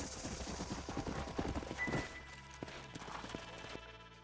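Horse hooves clop in a quick, uneven rhythm in the video game Red Dead Redemption, then a few scattered sharp thuds follow as the sound fades, fairly quiet throughout.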